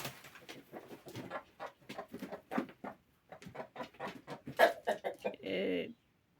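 A rooster and hens cluck close by at a nest where the hens lay eggs, in irregular bursts of short soft clucks that end in a longer drawn-out call.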